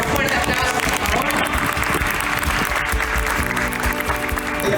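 An event audience applauds loudly as a guest is called to the stage. The thick, continuous clapping mixes with crowd voices and a tonal sound behind it.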